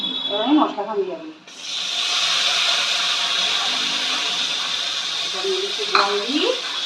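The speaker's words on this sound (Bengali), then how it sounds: "পেঁয়াজটা ভাজা হয়ে গেছে, এবার আমি মশলাটা দিয়ে দেবো" Spices are tipped into already fried onions in a hot pan, setting off a loud, steady sizzle that runs for several seconds while the mixture is stirred. Brief speech can be heard at the start and again near the end.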